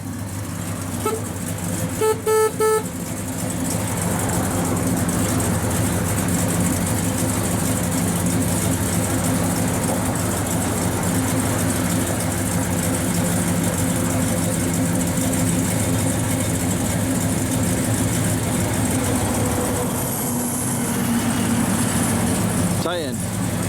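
A 1968 Chevrolet Chevelle SS 396 idles with a steady low rumble throughout, preceded by a couple of brief horn-like tones near the start.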